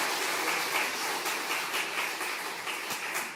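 A church congregation claps together in sustained, dense applause during a Sunday service, a steady wash of hand claps with no voices on top.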